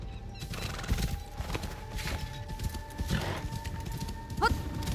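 A horse in the video game Assassin's Creed Shadows clip-clops along with steady hoofbeats and gives several neighs and whinnies, the last one sharp and high, close and clear.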